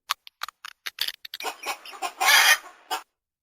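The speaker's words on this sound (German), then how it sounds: "Küken" Electronic chick sound from a 2006 VTech Smartville toy station: a run of short peeping clucks followed by a louder, fuller squawking burst, clear and alone.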